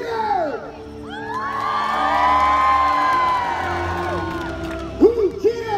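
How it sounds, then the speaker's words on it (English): A crowd cheers for jousting knights at a Pennsylvania renaissance fair, with loud overlapping whoops, yells and children's shrieks that swell and hold steady, then a few sharp shouts near the end. "As they reach their end and raise their lances on high, greet them with a hearty cheer!"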